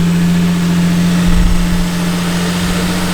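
A Lexus IS300 engine idles steadily after a cold start, with a smooth, quiet, even hum and a slight swell midway.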